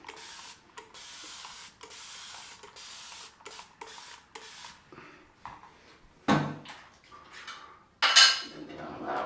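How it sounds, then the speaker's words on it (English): A spray bottle mists water onto a face during a wet shave with a safety razor, giving a run of short spritzes, then a few louder clinks and clatters of grooming items being handled. "So, spray some more water on."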